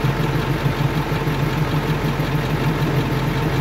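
A 1999 Ford F450 crane truck engine runs with the PTO engaged, a steady, close, low rumbling idle with a regular throbbing pulse and no clear rise in revs.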